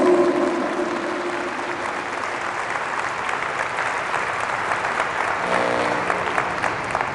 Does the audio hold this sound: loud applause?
yes